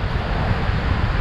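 Wind gusts steadily across an outdoor campsite, producing a continuous low rumble and buffeting over the microphone with no pause.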